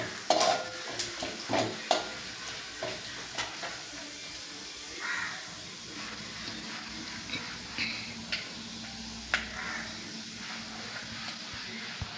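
Chopped cashews and almonds roast in a pan for carrot halwa, with soft sizzling under irregular stirring scrapes and light clinks of a spoon, quiet and close.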